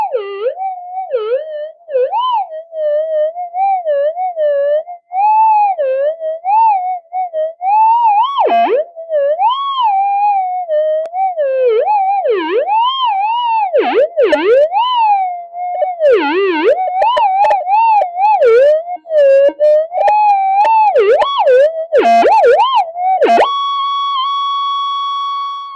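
A Minelab GPX metal detector misbehaving, its tone warbling and swooping up and down continuously like a wavering siren. It turns more erratic and crackly toward the end, then settles into a steady high buzz. No one speaks.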